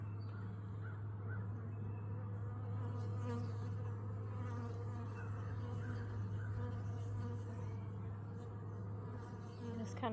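Honeybees buzzing around an open hive during an inspection, a steady low drone that holds throughout, with faint scattered clicks and rustles over the quiet background.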